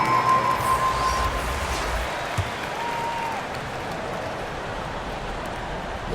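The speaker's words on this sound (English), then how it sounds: "Fans, please give a big round of applause for your Thunder Youth Dance" Steady, broad crowd applause fills an arena during an NBA 2K23 basketball game on PS4, holding at an even level throughout with no voices standing out.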